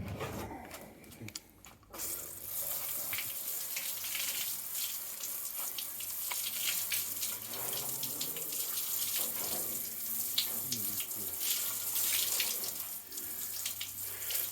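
Water sprays and splashes steadily across a car panel, flushing off a wax or sealant coating. A hissing, running-water sound starts abruptly after a brief quiet moment and continues evenly, close up, with no talk.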